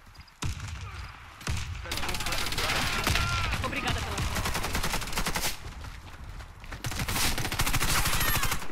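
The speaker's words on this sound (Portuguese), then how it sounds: "já passou um tiro perto aqui do lado" Gunfire in the shooter game Warface, likely including a Calico M955A: rapid automatic bursts of loud shots rattle almost continuously for several seconds after a brief quiet start, with a player talking over the action.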